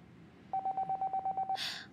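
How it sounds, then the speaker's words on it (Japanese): A phone in 428: Shibuya Scramble gives a quick run of about nine short, evenly spaced electronic beeps, loud and clear, followed by a brief hissy burst. "カナンはかかってきた電話に出ようとした"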